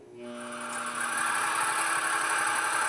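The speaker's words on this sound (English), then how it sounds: "So we start our pump up" A MultiCam waterjet cutter's high-pressure pump starts up, a steady mechanical whine and hum that swells over the first second, then holds loud and constant with a faint squeal on top.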